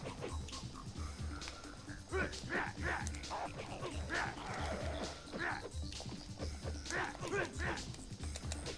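Dog barking and yipping in a PS1 side-scrolling beat 'em up, repeated short barks in a quick rhythm, faint and mixed with game noise and someone talking.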